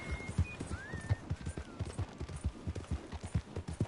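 In a video game, a horse's hooves clip-clop in a quick steady rhythm while brief neighs and whinnies rise over them, fairly close and moderately loud, with no talking.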